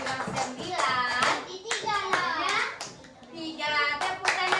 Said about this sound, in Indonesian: Tepuk tangan untuk Tia